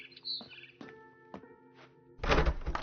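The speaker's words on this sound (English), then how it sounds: "Then I heard chirping outside my window." A bird chirps outside a window in a quiet game scene, with a few short tweets and soft thunks followed by a louder burst of noise at the end.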